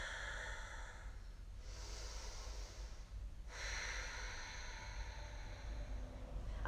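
Steady breathing during a yoga flow session, two broad airy exhalations standing out over a constant low hum, close and fairly quiet with no talking.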